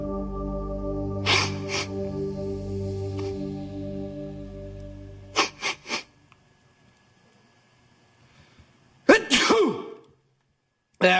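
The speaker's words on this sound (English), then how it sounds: "which will bring on a semi-autonomous convulsive expulsion of air from the lungs through the nose and mouth" Three sharp sneezes ring out, one near the start, one in the middle and one near the end, each a loud burst, with a low hum and quiet rustling in between.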